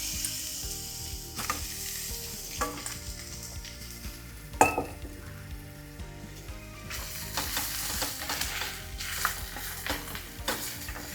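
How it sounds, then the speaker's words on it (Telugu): Mutton legs sizzle and fry in a pan with ginger garlic paste, a steady crackling hiss broken by scraping and stirring clatter, close up with no talk. "ఇప్పుడు ముందుగానే వాష్ చేసి పెట్టుకున్న కాళ్ళని ఇందులో వేసేసుకోండి"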